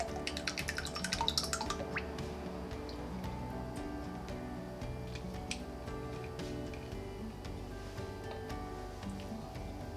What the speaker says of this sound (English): Empty your first fragrance or essential oil bottle completely into your pitcher